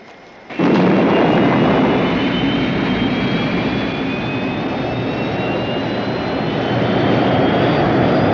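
Spacecraft liftoff in the science-fiction series Space 1999: a loud, sustained engine roar bursts in after a brief quiet moment and holds steady, dense and rumbling, with no voices.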